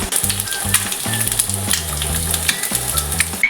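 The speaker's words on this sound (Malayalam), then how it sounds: "അപ്പോൾ ഞാൻ ഒരു മുട്ട ബുൾസൈ അടിക്കാം." An egg fries sunny-side up in a hot pan during lunch preparation, with a steady crackling sizzle over a rhythmic series of low knocks or taps, close and fairly loud, without talk.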